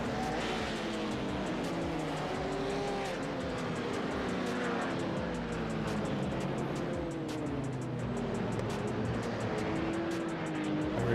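TCR and GTE race cars circulate at Spa-Francorchamps in a racing video game, a pack of engines droning and rising in pitch together as the field heads down the front stretch, loud and continuous with layered overlapping revs.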